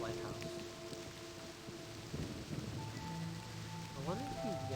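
Rain falls on the lighthouse in the realMyst video game as a soft, steady patter and hiss. It stays faint under sustained tonal ambient game sounds that swell and waver toward the end.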